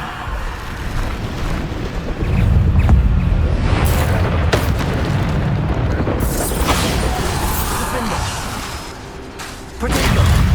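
Bombarda spell explosions in the Hogwarts Legacy video game, a sustained barrage of deep, rumbling booms over a windy roar, with a sharper blast near the end, loud and close.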